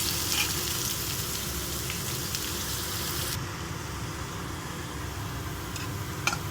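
Onions, green chilies and curry leaves fry in hot oil, giving a steady, dense sizzle throughout that eases slightly partway, with a few faint clicks of a utensil near the end.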